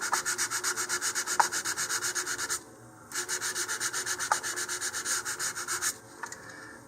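Rhythmic rubbing strokes of sandpaper roughening a model rocket body tube, steady back-and-forth passes up close, broken by a brief pause midway, with no talking.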